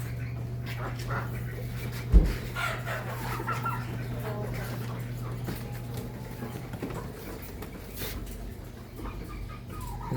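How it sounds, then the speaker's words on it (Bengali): Layer chickens at a poultry market cluck repeatedly, with a sharp close squawk early on and intermittent crowing amid a busy background and a steady low hum. "এগুলা লেয়ার মুরগি"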